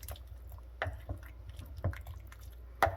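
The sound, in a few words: stirring gluten-free beef stew in pot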